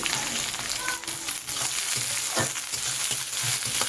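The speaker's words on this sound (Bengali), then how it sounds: "বেশ ভালোভাবে নাড়িয়ে চাড়িয়ে নিই পেঁয়াজ কাঁচা লঙ্কা আদা আর শুকনো লঙ্কার সাথে রসুন একই সাথে ভালোভাবে মিশিয়ে একটু ভাজা করে নেব" Onions, green chillies, ginger, garlic and dried chillies sizzle in oil for a Bengali katla fish dish, a steady close crackle with scraping stir strokes from a spoon throughout.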